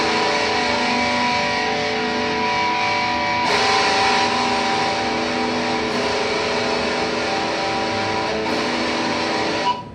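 Beach guitar run through a flanger effect sounds like a continuous dense, sweeping whoosh. Swells build at a few points before it cuts off at the end.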